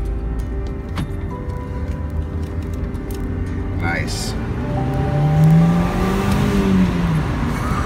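A 2008 Volkswagen Eos 2.0T turbo convertible with a six-speed manual accelerates on the road, engine note climbing and swelling through the revs from inside the cabin, with a brief spoken word over it.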